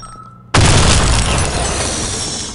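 A sudden loud blast bursts in a shooter video game after a short quiet lead-in, then a sustained crackling, shattering roar that slowly fades over the next two seconds.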